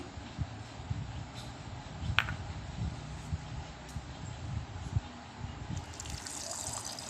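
Water poured onto cut bitter gourd pieces while making juice, a soft trickling and splashing close by, fairly quiet and continuous.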